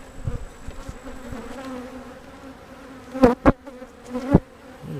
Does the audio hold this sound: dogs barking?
no